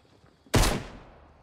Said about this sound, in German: Warum schießt denn du?